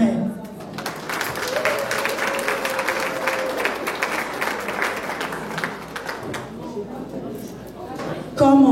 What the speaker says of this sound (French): si vous pouvez juste acclamer pour vous-même